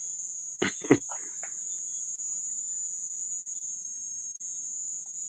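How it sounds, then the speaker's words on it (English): Insects chirp outdoors at night in Jamaica, a continuous high-pitched trill that runs steadily from start to finish, with a brief burst of louder noise near the start. "I go hear the Jamaican insects, doing their thing."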